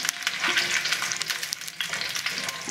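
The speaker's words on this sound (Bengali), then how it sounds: "ফোড়নটা একটু ভাজা হবে, বিশেষ করে মেথিটা খুব কালো হবে না" Chillies, fenugreek and mustard seeds crackle and sizzle steadily in hot oil, with occasional stirring scrapes and spitting pops.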